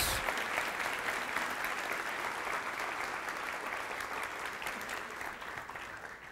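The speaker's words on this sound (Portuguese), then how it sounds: "Quer glorificar o Senhor com aplauso?" A church congregation claps steadily together in praise, a full, even wash of applause that holds throughout and fades slightly toward the end.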